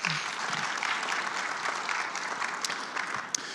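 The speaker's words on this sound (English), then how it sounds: "So give yourselves a round of applause for coming out" Audience at an ALS research symposium gives a steady round of applause, fairly faint and distant, continuing evenly without talk.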